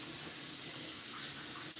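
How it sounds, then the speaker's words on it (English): Steady hiss of running tap water, close and continuous, used for rinsing in cold water after a hot water wash. "after you hot water wash them, you can rinse them in cold water"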